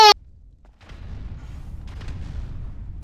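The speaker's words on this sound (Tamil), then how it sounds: "என்னடா சவுண்டு, வெடிக்கிற சவுண்ட்லாம் கேக்குது." Explosions in the video game GTA 5 rumble on with a deep, rolling roar after a short sharp tone at the start, booming at medium loudness for about three seconds.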